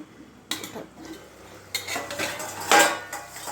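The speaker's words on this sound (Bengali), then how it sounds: "দেখো, ঢাকনাটা খুলে উঠিয়েছি" A plate serving as a lid is lifted off a pan of steamed cauliflower roast, giving clinking, scraping ceramic and metal knocks with a brighter clatter near the end, close by and with no voices.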